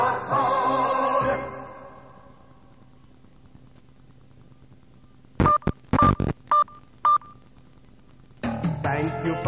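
An answering machine plays a short series of electronic beeps as its message tone, a few clipped tones in quick succession after a spoken greeting and a pause, followed by more sound.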